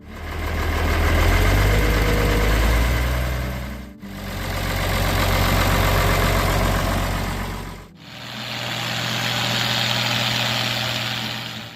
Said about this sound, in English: the distinctive roar of an International Harvester 1206